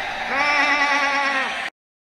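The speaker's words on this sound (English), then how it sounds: "Sheep. Isn't it great, dude?" A sheep gives one loud, sustained, wavering bleat that lasts nearly two seconds, close to the microphone, and then cuts off abruptly.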